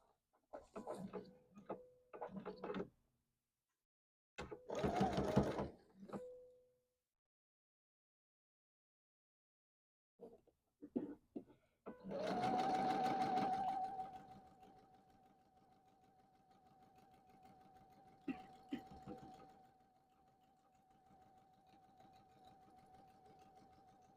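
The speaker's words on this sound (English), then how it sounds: "Okay, so let me sew this one." A sewing machine stitches a quilt block in several short bursts, then one longer steady whirring run with a faint tonal hum, separated by quiet gaps and small handling clicks.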